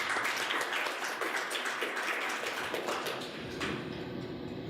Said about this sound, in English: Big round of applause for Paco.